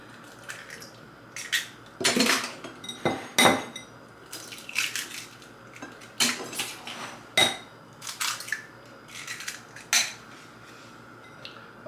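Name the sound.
cracking eggs into a bowl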